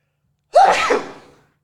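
A single sharp sneeze, close and loud, bursting out suddenly and trailing off over about a second.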